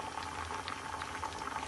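Cassava root boiling in a pot of water, a steady, close bubbling simmer with soft popping that runs throughout without any voices.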